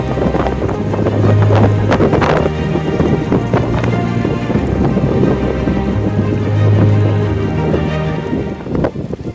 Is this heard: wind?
yes